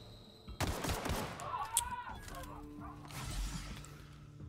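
Rapid weapon fire in the video game The Outer Worlds crackles in a loud burst, followed by scattered impacts and game effects.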